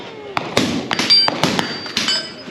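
A string of suppressed subsonic 300 Blackout rifle shots from a Sig Sauer at an outdoor range, about eight sharp cracks in quick, irregular succession, with faint metallic ringing between them.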